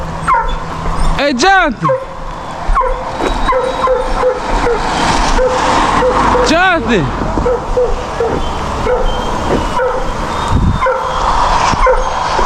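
A dog at a South Carolina deer dog drive lets out sharp, loud yelping barks, two prominent bursts with smaller yips between, close by, while a man calls out over it.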